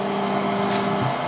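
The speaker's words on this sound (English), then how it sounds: "So the machine is now homing" CNC router homing its X, Y and Z axes, a steady loud motor whine with a constant hum that shifts pitch near the end as an axis stops, close and without talk.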